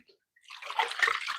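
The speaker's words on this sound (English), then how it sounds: "I am just clearing out the water from my whetstones" Water being emptied out of whetstones, a short splashing pour that starts after a brief silence and continues as a steady close slosh to the end.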